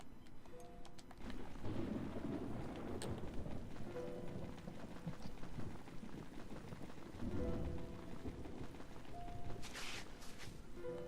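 Thunderstorm with steady rain in the video game Tales of Xillia 2, a continuous rain hiss with low rumbling thunder swelling at intervals, alongside faint game tones.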